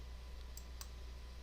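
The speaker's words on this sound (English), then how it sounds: "Click." Two quick, faint clicks of a computer mouse land close together in a quiet room, made while drawing shapes in Adobe Illustrator, with only a low steady hum behind them.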